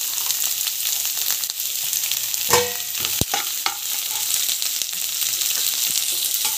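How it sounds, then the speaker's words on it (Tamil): Paneer sizzles steadily in hot oil for a Hyderabad-style paneer biryani, a dense, constant crackling hiss broken by a few sharp clinks of a utensil against the pan partway through. "ஆயில் போட்டுட்டு ஃப்ரை பண்ணிடலாம்"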